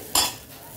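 A paratha being flipped on a pan and the pan covered with a lid: one short, bright metallic clink that fades quickly, with no voices.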